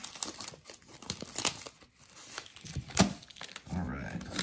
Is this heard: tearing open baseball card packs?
yes